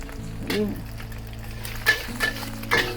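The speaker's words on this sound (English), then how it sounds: "Now this egg must fry." An egg fries in a pan for spicy nasi goreng with a faint, steady sizzle, broken by a few light utensil clinks and a brief voice.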